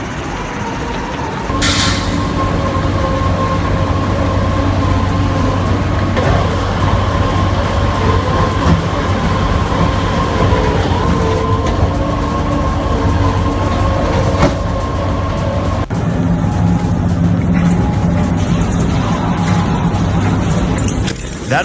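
An industrial shredder crushes a 1,200-pound diesel engine block, sending out a loud, continuous grinding roar with steady mechanical rumble throughout and a few sharp metallic bursts along the way.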